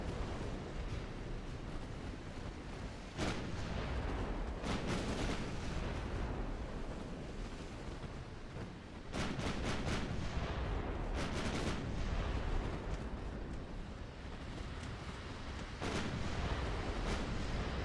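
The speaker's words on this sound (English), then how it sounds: "These 7-inch guns are starting to get involved." Heavy 7-inch naval guns fire in a dreadnought-era sea battle, loud booming shots arriving singly and in quick clusters over a continuous low rumble, with no voices.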